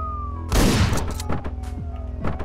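Gunfire from the top-down shooter video game Hotline Miami: a dense, loud burst of shots followed by several sharper, scattered single reports over a steady game soundtrack.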